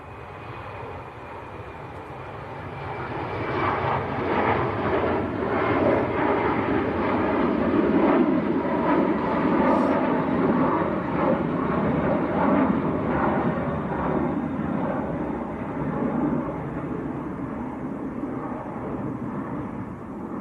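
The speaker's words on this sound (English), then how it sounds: "Going back to Zurich. Embraer E190." Embraer E190 jet taking off from Manchester Airport, a broad roaring rumble that swells to a peak partway through and then eases slightly while staying strong, heard from a distance.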